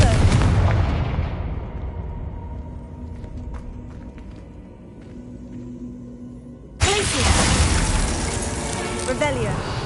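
A Confringo fire spell blasts in Hogwarts Legacy: a loud, crackling explosive burst that fades into a low rumble and mechanical clatter, then a second powerful blast that erupts near the end and stays loud.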